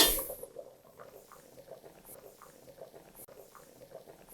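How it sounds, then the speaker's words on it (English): Potatoes boil in a pot of water with a soft, steady bubbling and light popping. It sounds fairly quiet and close, with no voices. "But we want to boil these for maybe 10 to 12 minutes."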